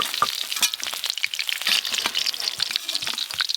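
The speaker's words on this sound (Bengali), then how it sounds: "এবার এই মাছগুলো একবারেই ভাজা হয়ে যাবে।" Pieces of rohu fish frying in oil, with a dense, busy crackle and popping sizzle that stays steady and fairly close throughout, no voices.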